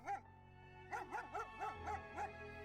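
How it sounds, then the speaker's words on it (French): German shepherd dogs bark at a prisoners' arrival at Auschwitz: a single bark, then a rapid run of five or six yelping barks, close and fairly loud over a steady low hum. "Des bergers allemands aboient et sont prêts à leur arracher la gorge,"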